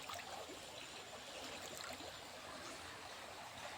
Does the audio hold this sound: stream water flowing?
yes